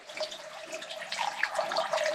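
A small, low-flow mountain spring on a hiking trail near Agulhas Negras in freezing conditions trickles steadily, a soft continuous splashing with faint bright drips, close by and with no talking.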